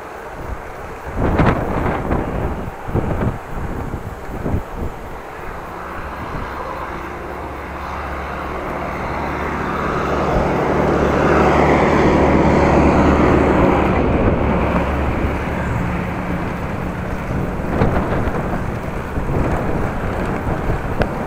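Strong wind roars and buffets the microphone, swelling louder in the middle and staying rough and continuous throughout.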